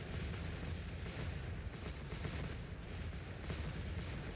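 Artillery cannon fire in the Napoleonic battle game Scourge of War: Waterloo, a dense, steady rumble of booming guns running throughout with no clear gaps, loud and continuous.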